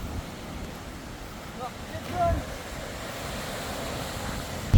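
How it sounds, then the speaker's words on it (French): Ocean surf rolls onto a beach in Spain beneath a cliff, a broad, steady wash with a gentle swell midway, heavy wind buffeting the microphone, and no voices. "là, on est à la plage"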